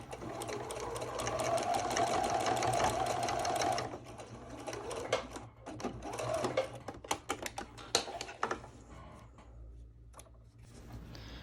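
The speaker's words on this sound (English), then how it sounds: "Then you just take that to the machine and be sure to back stitch in the beginning and end." A sewing machine back-stitching fabric pony doll pieces runs in a steady whirring burst, then breaks into shorter stop-start runs with pauses and clicks as the work is adjusted, heard up close with no voices.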